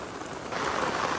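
Heavy pouring rain during cast net fishing in a Kerala village, a steady dense hiss that swells slightly louder partway through the short stretch.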